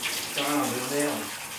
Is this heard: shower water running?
yes